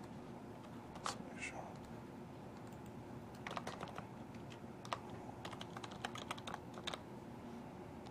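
Computer keyboard typing a username and password, a quiet run of light key clicks in short bursts over faint background hiss, with a soft voice briefly audible.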